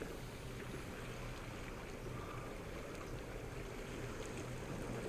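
Ocean water and waves in the No Man's Sky video game make a steady, soft, hissing wash that holds at an even level with no voices over it.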